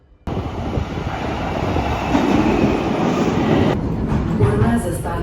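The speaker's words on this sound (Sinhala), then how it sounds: "දැන් ඉතින් මෙට්‍රෝ එක යනකම් බලන් ඉන්නවා." A metro train in Bucharest, Romania, rumbles loudly and steadily from a sudden start, a continuous close roar of carriage motion with no talk over it.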